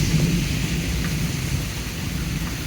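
Steady heavy rain pours down during a severe thunderstorm in Pittsburg, Kansas, a dense continuous hiss with a deep low rumble of thunder underneath, no voices present.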